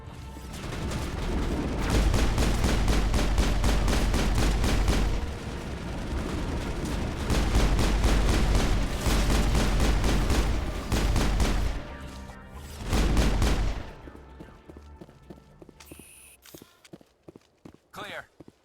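Assault rifle fire in the video game Mass Effect, with long bursts of rapid, evenly spaced shots repeating in several runs, loud and close, broken by brief pauses and trailing off into scattered softer hits near the end.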